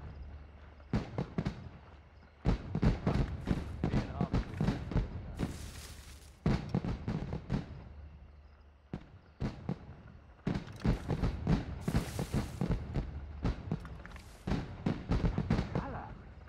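Fireworks burst in repeated rapid crackling volleys in Assassin's Creed Rogue, the loud explosions coming in clusters with brief lulls between them, over a low steady background hum.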